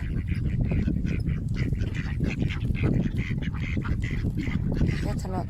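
Continuous quacking from a group of ducks being fed bread blends with people talking over a dense, noisy background, the calls overlapping without pause.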